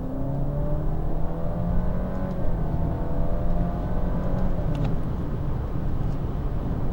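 A 2019 Alfa Romeo Giulia Veloce with its 2-litre turbo engine accelerating hard from about 3,500 RPM in a low gear. Rising harmonic engine tones climb steadily and stay loud and close throughout, with no talk over them.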